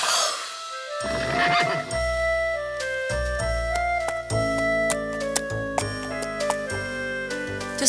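A cartoon horse whinnies in a Harold and the Purple Crayon cowboy episode, a shrill rising neigh set over bright, steady background music that runs throughout.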